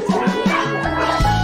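Dogs, puppies among them, at a rural Chinese dog market where French bulldogs and corgis are sold let out a few short yips and barks close by, then a whimpering, howl-like whine against busy market background noise.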